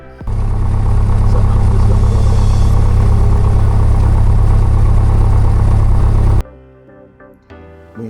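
A small airplane's engine runs steadily on the runway before a solo cross-country flight, a loud, constant droning hum that cuts off abruptly near the end, leaving faint quieter sounds.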